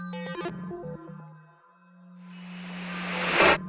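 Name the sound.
synthesizer app noise tone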